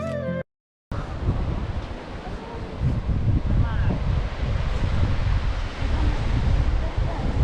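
Wind buffets the microphone on a small cement tower dressed as wood, standing high above the sea on the Devgadh coast, with a steady roar of surf below after a brief silent gap.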